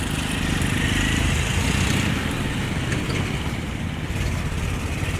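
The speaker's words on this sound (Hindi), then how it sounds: "ट्रैक्टर वाले ने ऐसी घुर घुर भरी" A tractor engine rumbles nearby with a steady, throaty low drone and gritty mechanical texture, holding an even level throughout without voices.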